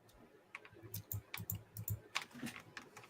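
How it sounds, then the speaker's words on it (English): Typing on a computer keyboard heard quietly in the background: a rapid, uneven series of light clicks and taps in short bursts, with no talk over them. "You hear her typing, you know she's over there doing something."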